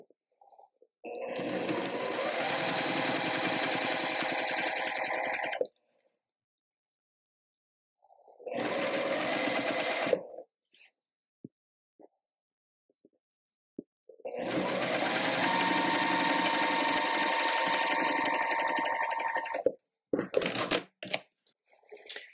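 Sewing machine stitching the final seam of a quilt block, three loud, close whirring runs separated by pauses, with small clicks and handling noises between them.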